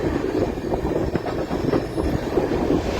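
Ahmedabad Gorakhpur Express running at night, a steady rumbling roar of rolling wheels and rail joints with faint clatter and hiss, continuous and fairly loud from inside the coach.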